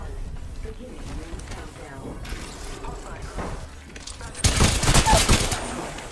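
Weapon fire in the battle royale game Apex Legends: a dense, loud burst of rapid shots erupts near the end, after quieter mechanical game sounds, with voices present in the mix.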